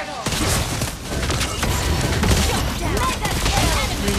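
Rapid bursts of gunfire from the hero Lesley in a mobile battle game, dense overlapping shots and thuds filling the whole stretch, with game voice lines mixed in.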